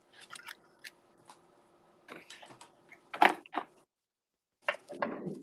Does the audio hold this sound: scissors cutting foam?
yes